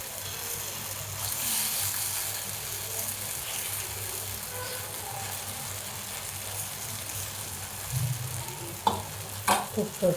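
Ragi flour dhirda fries in ghee on a hot griddle, giving a steady, soft sizzle and crackle throughout, with a few sharper pops near the end and no talking.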